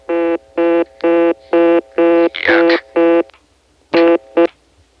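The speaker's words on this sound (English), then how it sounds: "So, I've just dialed 4, by the way." Dialing on a 1970s Vermont central office telephone line produces a run of loud, evenly spaced tone bursts, seven in quick rhythm, then a short gap and two more, over a low, steady hum on the line.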